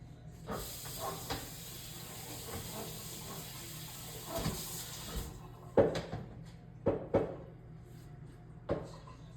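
Water runs steadily over a cutting board at a kitchen sink, a continuous close hiss, followed by several sharp knocks and clatters as the board is handled.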